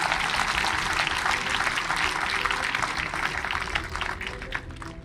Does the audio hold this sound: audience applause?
yes